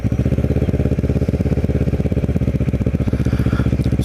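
A Kawasaki Ninja 650r motorcycle engine thrums close and loud while riding near Cape May, a steady, rapid pulsing drone with a faint rise in pitch toward the end.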